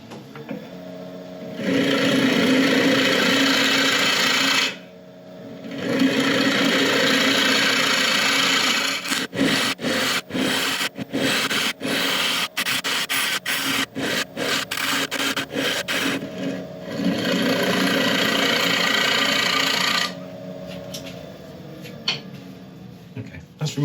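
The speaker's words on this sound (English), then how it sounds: "I'm just going to quickly grab the carbide and flatten off this base" A carbide woodturning tool scrapes a spinning workpiece on a lathe to flatten its base, giving a loud steady rasping rub in long passes, broken by short choppy cuts in the middle. Someone talks intermittently.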